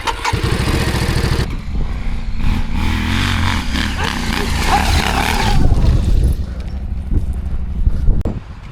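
An adventure motorcycle engine runs loudly and close on an enduro ride, rising and falling as the throttle is worked, with wind buffeting and some voices underneath.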